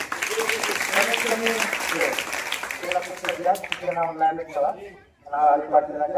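Schoolchildren applaud in a crowded hall, a burst of clapping that fades as an adult voice speaks over it and continues talking.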